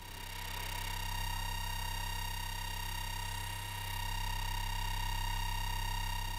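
A Luftwaffe FuG 220 SN2 night-fighter radar gives off a continuous electronic tone, picked up through a radio microphone receiver: a loud, unbroken hum with stacked steady pitches.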